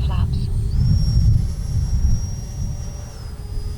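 An FMS Futura V3 RC jet at full throttle roars past as a low rumble with a thin high whine that rises and then falls away, sitting fairly close and loud.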